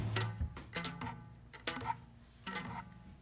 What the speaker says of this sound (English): It's made out of wood, and I put rubber bands around the box.